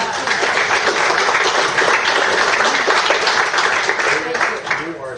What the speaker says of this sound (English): I'm going to clap you.